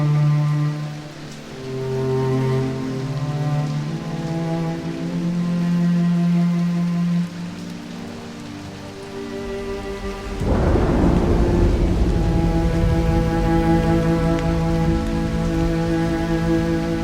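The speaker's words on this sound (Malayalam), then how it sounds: "എന്തൊരു മഴയാണ്! ഇങ്ങനെയൊരു മഴ ഞാൻ മുമ്പ് കണ്ടിട്ടേ ഇല്ലേ." Heavy rain pours steadily as a stage drama sound effect, with a loud crack of thunder bursting in around the midpoint and rolling on, all layered over sustained background music.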